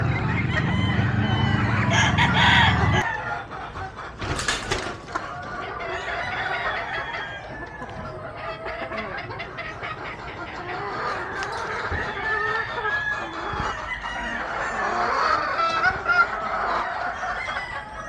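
Roosters and chickens in traditional-style breeding pens, with a loud low burst at the start, then repeated rooster crowing and clucking at mixed distances throughout.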